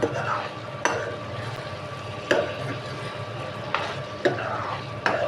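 Prawns fry being turned in an oily pan with onions, with a steady low sizzle and a few sharp spatula knocks and scrapes at irregular intervals, close up, no speech.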